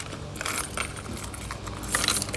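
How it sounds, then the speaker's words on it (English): A bunch of keys jangles and clinks at close range while someone tries them one after another in a car's locked fuel cap, with brief metallic rattles and scrapes and no voices. "every single one of these keys here belong to something, and I've now just got to guess the right one for the fuel cap"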